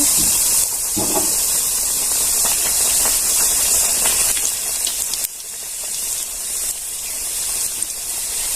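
Puris made with pumpkin dough hiss and sizzle loudly in hot oil as they puff up, a steady close frying roar with bubbling crackle throughout.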